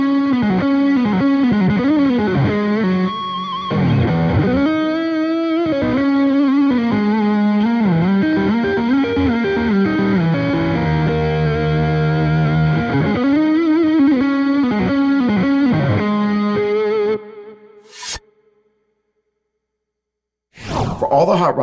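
An electric guitar played through a BOSS GT-1000CORE into the power amp of a Fender Hot Rod Deluxe 4 with Celestion F12-X200 full-range speakers. It is a continuous distorted, effects-laden melodic passage that cuts off near the end, followed by brief bursts.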